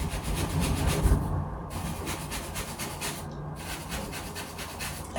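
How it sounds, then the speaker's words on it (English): Fingers or a brush scrubbing a scalp, close and rhythmic rubbing strokes with a couple of brief pauses, steady and moderately loud. "I'm just going to scrub all of my scalp."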